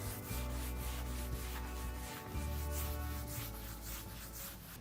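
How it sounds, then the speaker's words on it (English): A wooden dining tabletop is sanded with 220 grit sandpaper, giving a close, continuous rasping rub in long back-and-forth strokes, fairly quiet, with a low hum underneath. "lightly sand with 220 grit sandpaper"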